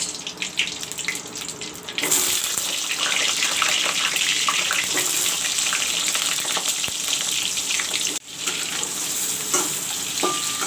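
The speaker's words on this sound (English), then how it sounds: "I will fry the brinjal also a little bit." Brinjal (eggplant) pieces fry in hot oil left over from frying cauliflower, giving a loud, close, continuous sizzle and crackle that stays steady throughout, with a brief dip near the end.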